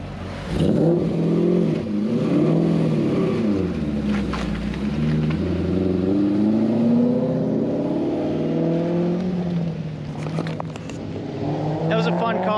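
A Corvette with a supercharger revs hard, its engine note rising and falling loudly and close by, with sharp exhaust pops near the end.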